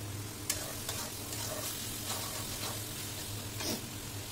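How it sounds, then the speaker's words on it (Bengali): Masala spice paste stir-fried in a pan for a fish curry with raw banana: a faint, steady sizzle broken by soft scraping stirs at irregular intervals. "এখন আমি এই মশলাটাকে 4 থেকে 5 মিনিট ভুনিয়ে নিব।"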